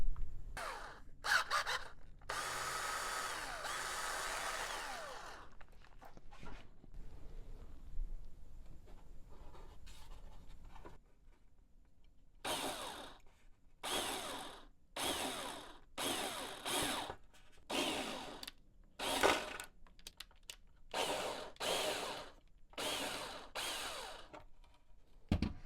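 A small drill bores holes into a balsa-wood RC plane fuselage in repeated short bursts, each a few seconds long, separated by brief pauses, close up and fairly quiet.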